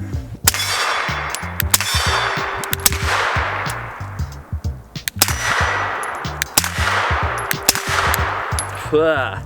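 A CZ P-07 Tactical pistol fires subsonic rounds through a suppressor: sharp muffled shots in quick bursts with metallic clanks from the action, loud and close, followed by brief ringing decay.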